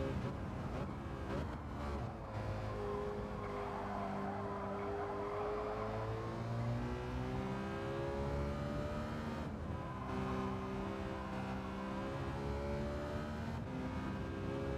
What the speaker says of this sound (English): This car sounds different on this TV as well. It's got a slightly different pitch.